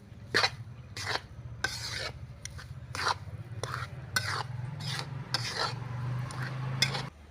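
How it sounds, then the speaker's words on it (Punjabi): Wheat flour roasting for panjiri, stirred without pause: rhythmic scraping strokes of a spoon through dry flour in a pan, roughly one or two per second, close up over a low steady hum, no talking. "ਆਟੇ ਨੂੰ ਲਗਾਤਾਰ ਚਲਾਉਂਦੇ ਰਹਾਂਗੇ ਇਸ ਤਰ੍ਹਾਂ ਜੀ"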